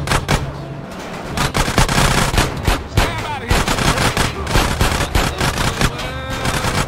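Rapid gunfire in the video game GTA San Andreas, loud repeated shots in fast bursts like a machine gun, nearly continuous, with a voice speaking briefly between them.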